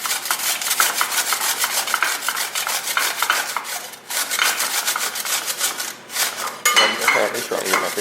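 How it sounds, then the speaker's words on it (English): Potatoes grated finely for a Passover dish, a loud close rasping scrape repeating in fast steady strokes with brief pauses between bursts. "we're going to start by grating the potatoes nice and small"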